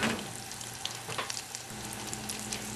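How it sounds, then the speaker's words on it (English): Shrimp paste fries in hot oil for a Thai nam prig pad chili paste, giving a soft, steady close sizzle with faint crackles. "I'm going to cook this for about 1 or 2 minutes in the oil"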